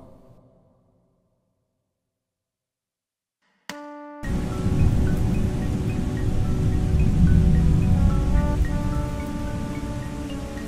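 A Band-in-a-Box 2012 thunder and rain audio loop: steady rain with a low rumbling, thunder-like roar begins abruptly after a few seconds of near silence and continues loudly to the end.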